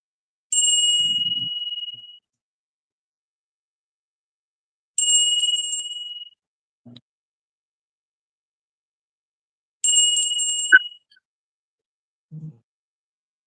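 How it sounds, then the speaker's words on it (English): A bright bell rings three times, each a clear single ding spaced a few seconds apart, with faint soft clicks in between. "So 3 times ringing the bell."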